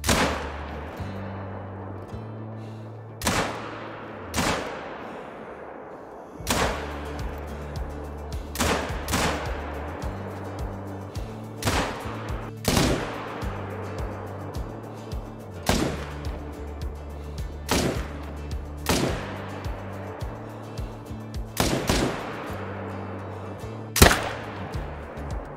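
Firearm shots in the hunting video game theHunter: Call of the Wild: sharp, widely spaced single cracks, each with a short echoing tail, ringing over a steady low hum and looping background music.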